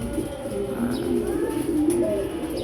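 Pigeons coo softly and repeatedly, close by and overlapping, while the birds are shut into their coop; faint chirps from budgerigars and light ambient noise sit in the background.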